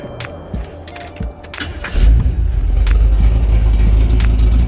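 A 1984 Grand Prix with a freshly fitted exhaust runs close by, a low rumble that swells into a loud, steady drone after about two seconds, with a few light jangles early on.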